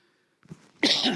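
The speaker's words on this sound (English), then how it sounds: "I've definitely got a cough, sorry." A single sharp, close cough after a soft intake of breath, harsh and loud.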